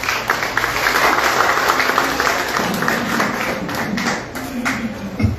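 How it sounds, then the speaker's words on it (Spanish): An audience at a book presentation applauds loudly and continuously, a dense wash of clapping that stays strong throughout and tapers only slightly near the end. "Fuerte palmas para Andrés Guamaní."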